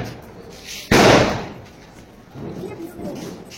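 A single sharp Diwali firecracker blast goes off close by, loud and sudden, its boom decaying over half a second before crowd chatter and voices return.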